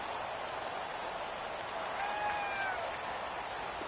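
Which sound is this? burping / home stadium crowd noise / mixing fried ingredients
home stadium crowd noise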